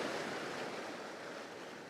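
Sea waves wash steadily into a rocky cove, a continuous broad hiss of surf with some wind, fairly soft and with no voices.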